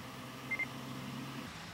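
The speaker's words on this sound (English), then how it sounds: "you'll hear a double beep to indicate that it worked" A D-Star amateur radio repeater answers a transmission with a quick double beep confirmation: two short, closely spaced tones, fairly faint, over a steady low hum and hiss.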